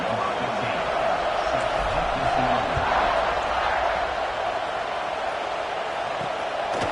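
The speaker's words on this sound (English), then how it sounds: "They're set to kick it off, and this crowd now ready to get behind them." Stadium crowd noise at a college football game between Notre Dame and Clemson just before kickoff, a steady loud roar of many voices throughout, with commentary spoken over it.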